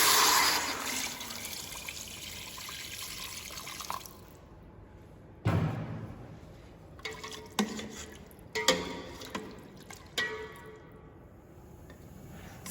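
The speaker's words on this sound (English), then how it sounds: "Now add the water." Water poured into a cooking pan over sauteed vegetables for stock, a steady splashing pour at first, then scattered drips, clinks and small splashes close by.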